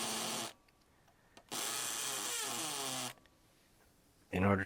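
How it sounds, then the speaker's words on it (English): Power drill run in hammer drill mode on a small diecast toy part, two loud buzzing bursts with a gap between, then a brief louder grind at the end. "I put the power drill in hammer drill mode"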